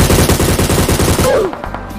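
Rapid automatic gunfire from a shooting video game rattles out in a fast, loud, unbroken burst for over a second, then cuts off abruptly, leaving faint game sounds.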